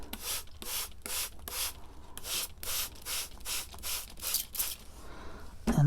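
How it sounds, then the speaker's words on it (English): A trigger spray bottle mists soil in a quick series of short, sharp hissing bursts, about a dozen in a row, close and fairly loud with brief pauses between. "And then I'm just going to give it a little spray."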